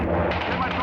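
Gunfire crackles through a recorded 911 phone call from inside the besieged Mount Carmel building during the Waco siege, a brief, dense, muffled burst under a voice on the line.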